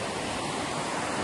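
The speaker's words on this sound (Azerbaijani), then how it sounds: "Bu şəlaləsidir." A waterfall at a mountain resort gives a steady, even roar of rushing water, close and continuous with no other sounds.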